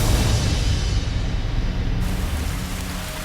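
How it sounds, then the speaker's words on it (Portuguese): Summer rain falling steadily, a dense broadband hiss with low rumbling weight, loud and continuous throughout with no voices. "A neve da Era do Gelo torna-se chuva de verão."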